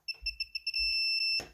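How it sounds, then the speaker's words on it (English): A string of short high electronic beeps from a multimeter continuity test on a USB cable's metal shells, then one continuous steady tone, sounding close and clean over a faint low rumble. "you should hear a beep indicating that they are electrically connected"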